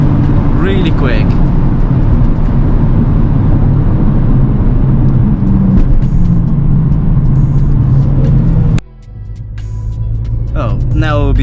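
Interior of a 2015 Mercedes-Benz A-Class with 184 hp at speed: a steady, loud low engine and road drone fills the cabin, with a sharp drop near the end as the car slows, then builds again. Someone talks over it.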